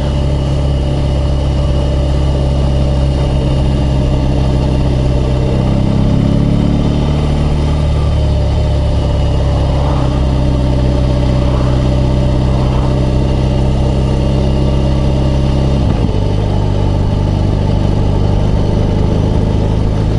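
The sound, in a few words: BMW R18 motorcycle engine running at low revs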